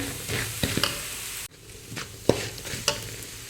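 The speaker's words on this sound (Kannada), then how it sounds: "ಇವಾಗ ಪುಡಿ ಮಾಡಿಟ್ಟ ಮಸಾಲೆ ಹಾಕ್ತಿದ್ದೇನೆ ಹಾಕ್ಕೊಂಡು ಚೆನ್ನಾಗಿ ಫ್ರೈ ಮಾಡ್ಕೊಳ್ಬೇಕು" Ground masala being fried with chana dal for Udupi-style chitranna, a steady close sizzle broken by sharp spoon scrapes and taps against the pan, with a momentary dropout midway.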